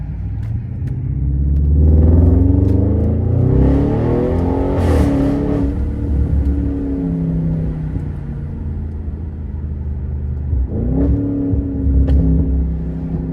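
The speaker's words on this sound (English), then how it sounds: "Oh, we got a little burble." An Audi A8L with upgraded stabilizer bars rumbles through its exhaust while driving, its engine note swelling under acceleration, easing off, then climbing again near the end, a close, continuous burble heard from inside the car with no talking.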